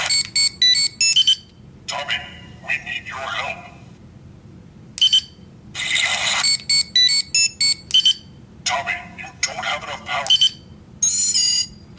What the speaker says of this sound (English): there you got the teleportation failing sound, so you get that sometimes